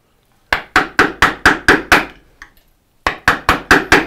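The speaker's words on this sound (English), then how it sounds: "my mallet is really close to my microphone." Wooden mallet striking a chisel while cutting an angled dovetail by hand: a fast run of about eight sharp, loud, close knocks, a brief pause, then five more evenly spaced blows.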